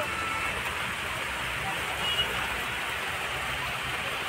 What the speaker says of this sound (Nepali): पानी पर्न थाले यहाँ पनि अब बिजोक हुने रहेछ